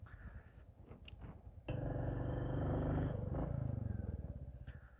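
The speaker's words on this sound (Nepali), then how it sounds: "यहाँ तलसम्म पुगेर चाहिँ बाइक घुमाएर आउँछु नि" A motorbike rumbles on a rocky slope, idling with a throbbing purr before the engine opens up and pulls away, then eases off, close and fairly quiet with no talk.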